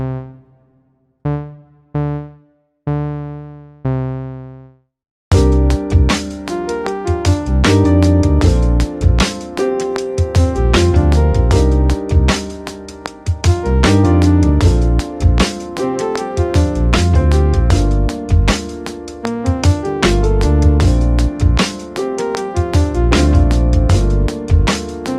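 A synth beat built in music production software, treated with distortion, flanger and reverb: a few sparse chord stabs, then a dense, loud, continuous rhythmic groove.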